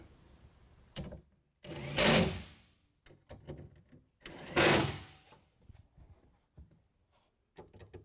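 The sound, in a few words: tightening bolt with T30 driver on tonneau cover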